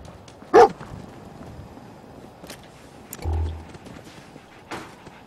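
Dogmeat, the dog companion in Fallout 4, gives a single short bark or yip early on, followed by a faint low rumble and light clicks against quiet game ambience.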